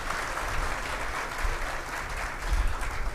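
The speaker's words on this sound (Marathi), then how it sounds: "एकदा जोरदार टाळ्या त्यांच्यासाठी सुद्धा होऊ द्या" An audience at a student gratitude ceremony claps steadily and fairly loud, a dense even applause lasting the whole stretch with no voices over it.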